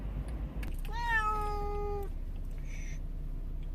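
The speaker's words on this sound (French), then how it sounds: "comme vous voyez, elle miaule" A single drawn-out meow from a cat at the vet for microchipping, clear and close, rises and then holds for about a second against a quiet low hum.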